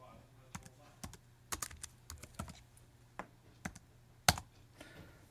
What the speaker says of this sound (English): all I'm going to do is type my dimensions